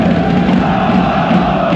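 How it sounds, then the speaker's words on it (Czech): Ice hockey fans at a Litvínov versus Pardubice semifinal, packed into the stands, rattling plastic clappers in a dense, continuous loud roar that blends with the crowd's noise throughout. "Tohle jsou ty zpropadený tleskátka"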